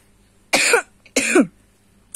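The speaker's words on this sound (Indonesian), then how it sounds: "Aku emang agak sedikit batuk ya" Two sharp coughs about half a second apart, close and fairly loud, with quiet in between and after.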